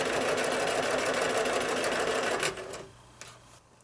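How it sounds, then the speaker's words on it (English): A sewing machine stitching quilt blocks together in quilt-as-you-go piecing, a loud, close, steady mechanical whir that runs evenly, then drops off sharply near the end, followed by a faint click. "I'm just pressing my fingers down as I stitch closer and closer"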